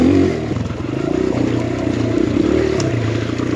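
Enduro motorcycle engine droning steadily up close on a slippery, rooty cliff trail, a continuous loud throaty rumble with slight rises and dips in revs and some clatter throughout.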